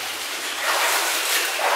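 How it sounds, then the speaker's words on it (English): Rushing water roars inside an underground placer mine in the backcountry, a loud, steady broadband wash that swells slightly partway through, with no voices. "So I hear a lot of rushing water getting close."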